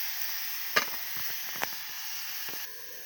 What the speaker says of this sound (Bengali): এটা নেড়ে দিয়ে এবার ঢেকে দেবো